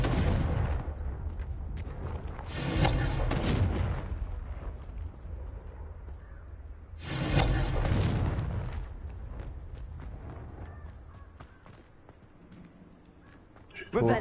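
Two heavy booming blasts of the Confringo explosive spell in Hogwarts Legacy, each a few seconds apart and fading slowly, with a voice heard in between.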